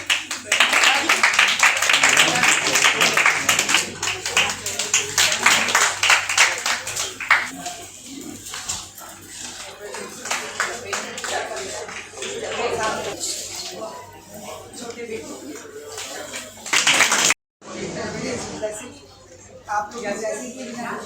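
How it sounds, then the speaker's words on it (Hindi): An audience at a club installation and induction ceremony claps loudly and steadily, a dense burst of applause that thins out toward the end, with some voices mixed in. "जोरदार तालियां।"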